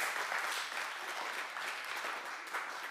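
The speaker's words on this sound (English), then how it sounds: "we can clap it up for JB" An audience claps in a steady round of applause, a dense patter of many hands at moderate volume that holds throughout without voices.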